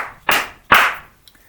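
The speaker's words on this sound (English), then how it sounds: "sound sync clap right now, poor man's clapperboard." Two sharp, close hand claps a little under half a second apart, used as a makeshift clapperboard for sound sync, each ringing briefly before silence.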